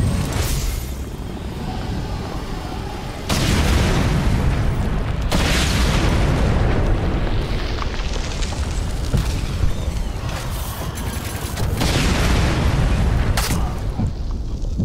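Loud, continuous booming blasts and bursts from explosions in the video game GRP, with dense rumbling low end and sharp new surges around the third and fifth seconds and again near the twelfth and thirteenth.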